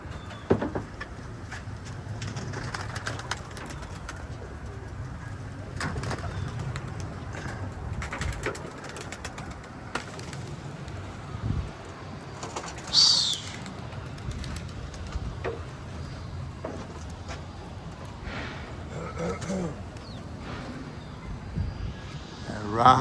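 Pigeons coo in soft, low repeated calls, with occasional bursts of wing flapping and a faint aircraft drone in the background, while someone talks intermittently over the birds.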